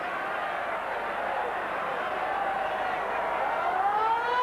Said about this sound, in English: There's the half-time siren here